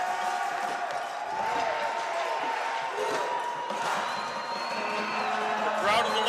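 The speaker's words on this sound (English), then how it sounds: "The crowd is electrified." A crowd at a Canadian Ringette Championship game in an ice rink cheers and whoops loudly in the arena, a continuous roar heard under a commentator talking.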